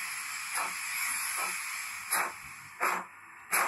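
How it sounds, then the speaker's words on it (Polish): An ESU LokSound 5.0 sound decoder in a model BR42 steam locomotive gives off a steady hiss broken by four short, louder steam puffs, close and heard alone. "Posłuchajcie szywciania."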